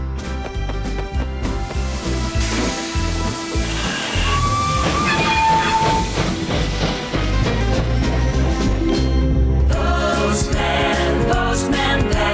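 A cartoon steam train pulls away with puffing chuffs and hissing steam, a whistle sounding briefly, all set against a bright, busy musical score.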